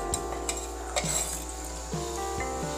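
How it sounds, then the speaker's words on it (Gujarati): Chana dal being tempered in a pot of hot oil, a soft steady sizzle with a low hum beneath, punctuated by a few light metallic clinks and stirring scrapes. "તો હવે આપણે દાળને વઘારી દઈશું"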